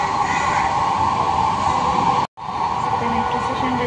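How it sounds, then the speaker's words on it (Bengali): A metro train at Anandanagar metro station gives a steady, loud mechanical hum with a sustained tonal whine, broken once by a sudden brief silence before resuming. "আনন্দনগর মেট্রো স্টেশনে এসে গেছি"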